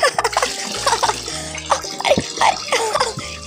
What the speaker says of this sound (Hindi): ममता और मुन्नी दोनों ठंडे ठंडे पानी में नहाकर बहुत खुश हो जाती हैं